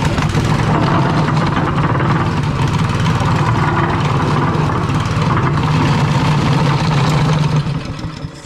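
A plate compactor engine runs steadily at high revs with a heavy vibrating rattle, loud and continuous for about eight seconds before easing slightly at the end.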